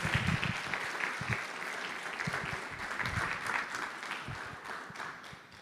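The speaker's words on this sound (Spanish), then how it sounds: "un fuerte aplauso" An audience applauding, a steady wash of many hands clapping at moderate distance, continuous for several seconds with no one speaking over it.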